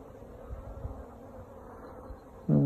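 Honeybees fly around a hive in winter sunshine, making a soft, steady, low buzzing drone that continues throughout, faint and somewhat distant, with a brief louder knock at the end.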